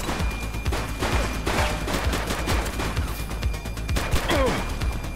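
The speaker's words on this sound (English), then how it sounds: "She's shooting!" Gunfire in a police shootout in The Precinct video game, dense bursts of rapid shots and impacts rattling steadily and loudly, with brief game voices mixed in.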